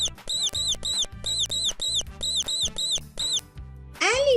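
A rat or mouse gives a rapid run of high, bright squeaks in quick bursts, close and loud, with a sharper swooping chirp right at the end.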